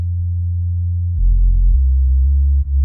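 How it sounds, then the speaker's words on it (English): A deep, smooth synth sub bass in Ableton Live 11 plays a slow line of a few sustained low notes, shifting pitch, heard soloed without other instruments. "So I really like this bass sound, this bass line over here."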